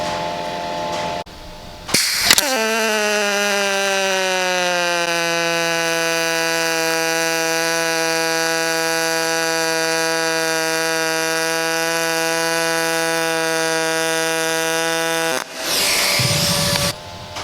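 An HTP Pro Pulse 220 MTS pulsed MIG welder runs a bead, giving a loud, steady, tonal buzz that holds for about thirteen seconds and cuts off abruptly, with brief clatter before and after.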